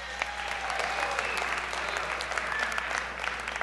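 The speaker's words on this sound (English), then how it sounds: "another round of applause" Sustained audience applause at the end of the first act of a fall school show, a dense even wash of clapping throughout, with faint cheers and voices mixed in.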